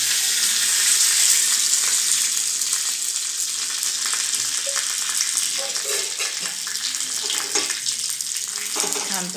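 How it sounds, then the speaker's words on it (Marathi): Curry leaves and dried red chillies crackle and sizzle in hot oil for a tomato chutney tempering, a loud, dense, continuous frying hiss with sharp spattering pops throughout, no talking. "त्याच्यामध्ये आपण दोन तीन कढीपत्त्याचे पानं आणि दोन लाल मिरच्या घालूया."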